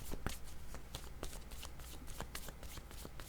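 A deck of tarot cards is shuffled and drawn, giving rapid, crisp riffling flutters and soft slaps that repeat in quick bursts close to the listener.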